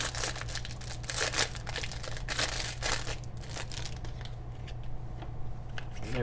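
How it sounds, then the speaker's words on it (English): Plastic wrapping on a pack of Secret Lair trading cards crinkles and tears up close, a run of sharp rustling crackles in bursts that thin out toward the end. "let's actually open the plastic these are all in"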